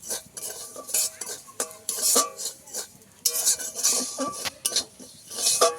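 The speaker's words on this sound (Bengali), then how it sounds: "তো সুজিটাকে নেড়ে নিতে হবে কড়ার মধ্যে, যেন বেশি পুড়ে না যায়।" Semolina frying in ghee is stirred in a kadai with a metal spoon, giving irregular scraping strokes and clinking taps against the pan, close and fairly loud, with no talking.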